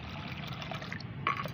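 Plain water poured into a container to dilute organic fertilizer for garden plants, a close, continuous liquid trickle and splash with a brighter burst of pouring near the end, no voices.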